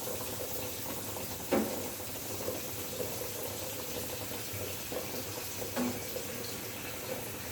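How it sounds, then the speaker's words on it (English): Cold tap water runs steadily over eggs in a sink, a soft continuous splashing with a couple of brief clinks, no talking. "Cold water running over them."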